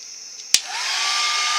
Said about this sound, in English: Now we're going to take our heat tool.